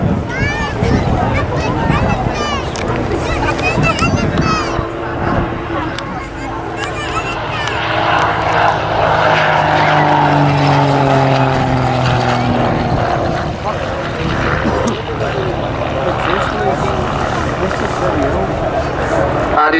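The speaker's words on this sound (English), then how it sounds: "On this first pass, he'll be accelerating the aircraft as fast as he can get it" A Grob Tutor propeller plane makes a low pass at 100 feet over RAF Cosford, wings level and accelerating hard. A steady droning engine note swells and shifts pitch as it goes by, with an announcer talking over it throughout.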